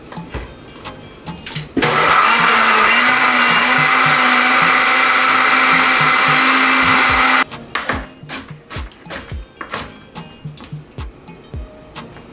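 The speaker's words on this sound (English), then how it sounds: "Now I blended ginger" A countertop blender whirs loudly at a steady pitch for about six seconds while blending ginger for mango carrot juice. Before and after the run come knocks and clatter as the jug is handled.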